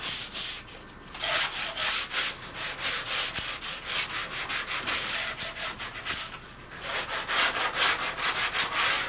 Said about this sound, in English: all this now has to be sanded very lightly to get that fuzz off from the first prime coat